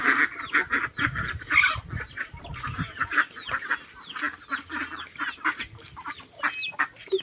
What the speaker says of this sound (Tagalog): magpapakain ho tayo ng mga alaga ho namin, mga pato, yan ho, at saka mamanok